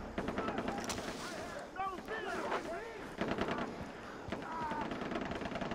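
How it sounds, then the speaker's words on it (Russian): Gunfire in the video game Far Cry 3 crackles in repeated sharp bursts and volleys at mid distance, mixed with game sound effects while someone speaks over the shooting. "Нет, это кто-то стреляет."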